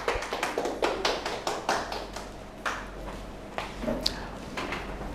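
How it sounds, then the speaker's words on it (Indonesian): Classroom group applauding a student presentation with scattered, uneven hand claps from a small audience, close by and fading to a few stray claps. "tepuk tangan untuk kelompoknya Naswa"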